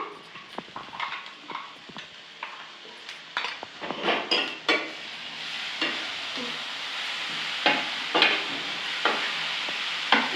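Masala being stirred into bitter gourd curry in a pan, with a steady sizzle and repeated scraping, clattering strokes of a spoon against the pan. No one speaks.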